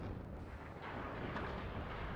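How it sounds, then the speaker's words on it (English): Tank ammunition cooking off in the WARNO war game, a continuous loud roar of blasts and rumbling rolling through the whole moment with no clear single bang, dense and sustained. "Got an ammo explosion on that tank."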